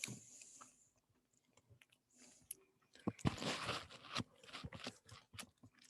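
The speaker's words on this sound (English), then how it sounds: "You don't want to hear me munching." Close, quiet munching of walnuts and apple at a Maundy Thursday Passover meal in a community church, with irregular crunchy bites and wet chewing, sparse at first and then denser, with no talk.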